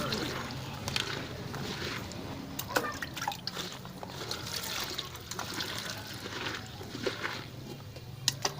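Chong, a wild mountain vegetable, being washed by hand in water, with continuous trickling, dribbling and small splashes and drips close by, alongside intermittent faint clinks.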